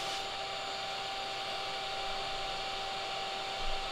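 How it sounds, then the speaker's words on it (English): A vacuum cleaner runs steadily in a closet, sucking up yellow jackets from a nest in the ceiling, its motor a loud, constant whine with a slight bump near the end. "I smack them down and then suck them up with the vacuum"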